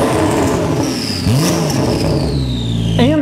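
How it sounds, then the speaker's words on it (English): A Porsche 935 race car engine revs hard and loud up close, its pitch climbing and falling in a few throttle blips over a steady growl. "Here are a few revs for your enjoyment."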